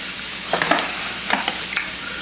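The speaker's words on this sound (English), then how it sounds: "Now we just stir." A utensil stirs Chicken Alfredo fried rice with melting Parmesan in a pan. A few soft scraping strokes come over a faint, steady sizzle, close and fairly quiet, with no talking.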